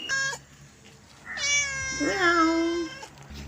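A cat meows in two or three clear, drawn-out calls at close range, with a short break between them and no one speaking.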